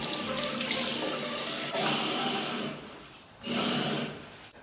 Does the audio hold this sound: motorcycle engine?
no